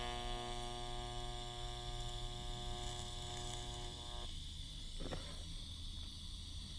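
TIG welder striking an arc for a substantial tack weld with filler rod on a fabrication workpiece, giving a steady electrical buzz and hiss that holds for several seconds, then shifts tone and quiets slightly partway through.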